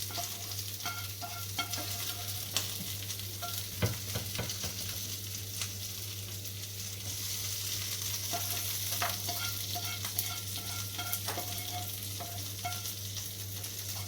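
Rice sizzling on a hot sizzler plate, a continuous fry hiss with faint clinks and scraping, moderately quiet and steady, with a low hum beneath.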